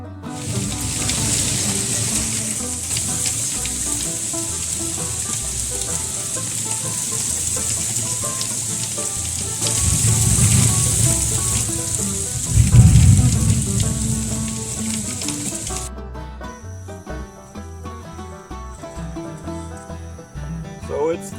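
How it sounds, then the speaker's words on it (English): Steady rain falling outside a garage, a constant hiss of drops that swells louder midway before easing, with a faint hum continuing after the rain noise drops out near the end. "Am I the only one that has to deal with this raining problem?"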